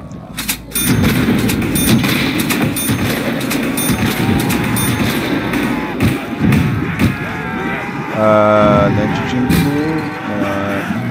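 Gunfire in the Call of Duty: World at War gun game mode, dense bursts of shots and thuds running throughout, with voices speaking over the fight.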